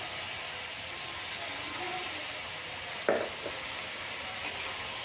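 Potatoes and long beans with spices being sautéed in a pan, a continuous soft hiss and sizzle with stirring, broken by a single clack of a utensil partway through and another faint tap later.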